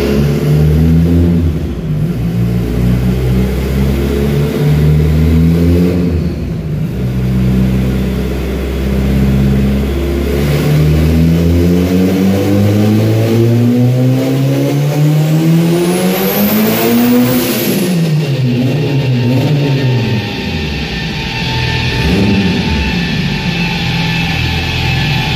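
Car engine fitted with a FuelTech programmable injection system, revving hard through repeated rising pulls during tuning, loud and close throughout, with no talk over it.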